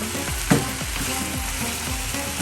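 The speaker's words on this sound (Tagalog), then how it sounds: "At i-fry mo na hanggang mag-brownish." Chicken fries in a pan with plenty of ginger, onion and pepper, giving a loud continuous sizzle. Regular low scraping strokes sound underneath, with one sharp clack near the start. No one speaks.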